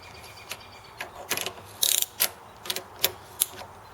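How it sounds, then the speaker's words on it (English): A ratchet set to tighten mode turns a 10 mm bolt on a Predator 212 engine, producing a string of close, crisp clicks in short bursts and single strokes over a quiet background. "We'll take our 10 mil again. Set this ratchet on tighten mode."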